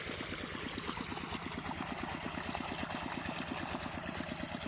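A water pump drives water into a rice paddy of RD49 rice sown sixteen days earlier, giving a steady rhythmic chugging under a broad, constant rush of water that runs the whole time.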